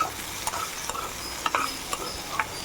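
Raw banana pieces with turmeric powder are sautéed in a pan, with a spatula scraping and stirring in quick irregular strokes over a soft, close sizzle.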